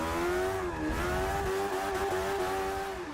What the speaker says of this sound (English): if you are driving without any assists and you give it full throttle, the car will usually spin the back tyres and it will go sideways